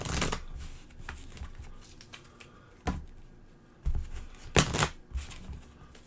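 Pieces for the Super Mega Lucky Box board game rattled and shuffled by hand at close range, a steady rustle broken by several sharp clattering bursts, with no talking.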